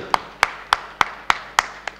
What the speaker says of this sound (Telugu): ఒక్కసారి గట్టిగా క్లాప్స్ కొడదాం